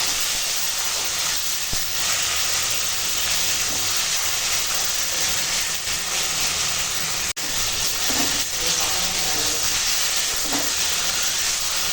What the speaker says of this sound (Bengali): এখন মশলাখানা কষাবো